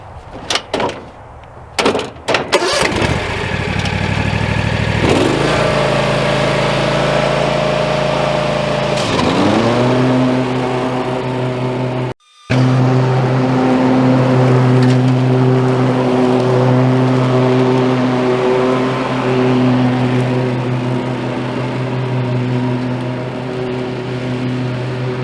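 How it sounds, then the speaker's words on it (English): Cub Cadet Ultima ZT1 zero-turn mower running loud and close as it mows dormant grass, the engine note rising sharply as it revs up, dipping briefly, then settling into a steady strong drone. "I'm just gonna run a couple passes and come back to you guys."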